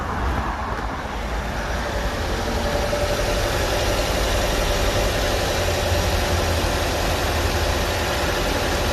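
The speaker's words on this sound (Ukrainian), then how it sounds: "Нормально працює двигун" A used crossover's engine, at 185 thousand on the odometer, idles steadily up close, a continuous even hum and rattle with no talking.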